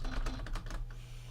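Computer keyboard keys clicking while Undertale is played: a quick run of about half a dozen light, faint taps in the first second, then a low steady hum alone.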